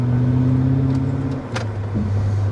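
A car engine is held near its rev limit during a drag launch run, making a loud, steady high-revving drone that dips briefly and then settles back to a sustained whine.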